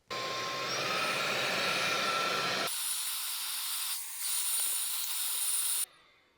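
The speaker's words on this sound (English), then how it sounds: "One other thing I want to try to vacuum is this right here." A REDTIGER handheld vacuum cleaner runs with a loud, steady hissing whine while sucking up debris, the pitch shifting briefly mid-run before the motor cuts off abruptly near the end.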